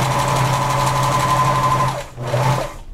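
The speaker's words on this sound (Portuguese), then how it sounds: "eu venho aqui e vou fazer a costura, prendendo essa parte aqui na alça." A sewing machine stitching a seam to attach a strap on a top, a loud close steady motor whir that slows and stops briefly before a short second burst.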